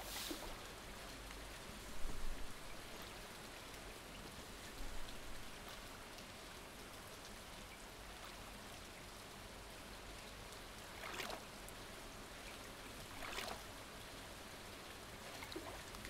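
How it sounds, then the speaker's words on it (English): Gentle rain falls in the Stardew Valley video game, a soft, steady patter of drops with a few slightly louder splashes, faint and continuous with no voices. "the sound of the raindrops just falling gently"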